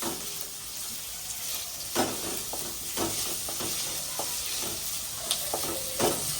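Onions fry in a pan, cooking until they turn reddish: a steady close sizzle with occasional scraping and stirring clicks from a utensil, and no talk.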